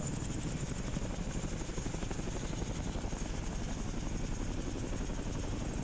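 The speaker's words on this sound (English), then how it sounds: "I can't hear you because of the chopper." A helicopter's rotor thumps and whines continuously in the military video game Arma 2, loud and steady with no speech.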